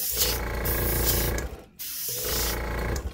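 An airbrush sprays alcohol ink in two close, steady bursts of airy hissing, separated by a brief pause, with no talk.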